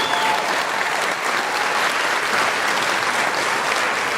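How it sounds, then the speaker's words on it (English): Sustained audience applause fills a school breakfast event, a dense, steady clapping from a large crowd with no pauses across the whole stretch. "Give another round of applause for Manuel."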